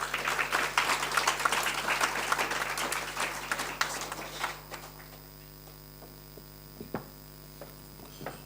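Applause from an audience at a provincial ANC business-sector engagement in KwaZulu-Natal, dense clapping for about five seconds before thinning to scattered claps over a steady mains hum.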